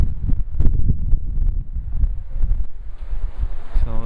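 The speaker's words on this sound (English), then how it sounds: "There's a little gust there in the aftermath." Wind gusts sweep through Pelham Bay Park in the aftermath of Hurricane Irene, a rough, buffeting rumble of wind against the microphone that rises and falls steadily for about four seconds.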